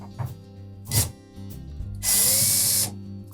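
Power drill backing Phillips screws out of a Samsung dryer panel: a couple of short soft taps and handling noises, then one sustained close whirring drill run lasting under a second.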